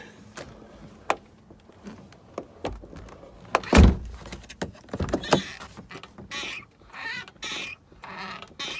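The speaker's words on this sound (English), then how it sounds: "I wish this door didn't squeak like that" A Mercedes W124 car door with a worn door strap squeaks and creaks as it swings, giving sharp groans and clicks among quieter handling noises, with one loud creak near the middle.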